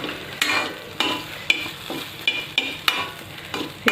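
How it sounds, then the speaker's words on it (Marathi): Paneer bhurji masala pushed to one side of a kadai: sharp scraping spoon strokes about every half second over a steady oil sizzle, close and with no talk. "हा जो मसाला आहे तो एका साईडला करून घेऊया"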